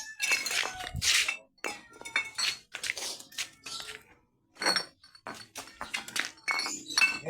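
Glass bottles clink and knock together as a junk collector gathers them, a string of sharp, bright chinks and taps in irregular bursts with short pauses between.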